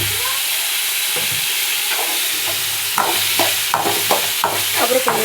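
Carrots for a poriyal sizzle in hot oil with salt, giving a steady hiss broken by repeated scraping and clattering strokes as they are stirred, with the stirring getting busier toward the end.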